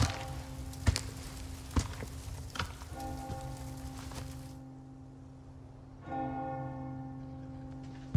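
A church bell in the video game Resident Evil 4 Remake tolls three times in slow, evenly spaced strikes, each leaving a long humming ring, over a soft patter of rain that fades and then returns.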